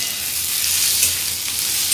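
Fried onion sizzles loudly in a pan after tomato is added, a dense crackling hiss with faint stirring scrapes throughout.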